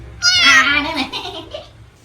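A cat gives one loud, drawn-out meow up close, which fades out over about two seconds.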